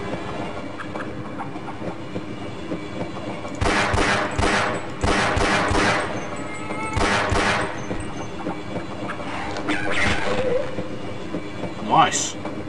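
Train in the 1998 PC game Half-Life, heard as a loud rolling rumble with bursts of clattering wheel noise over a steady mechanical drone, ending with a short high screech.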